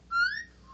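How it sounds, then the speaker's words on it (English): A whistle sound effect played from an iPod: one brief, bright rising whistle, clear and close, fading quickly. "Whistle."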